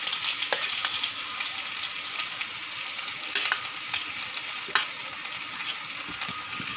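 Onions sizzle and fry in hot oil with red chillies, carom seeds and curry leaves, a dense continuous crackle close up, with occasional scraping clinks as a spoon stirs them around the pan.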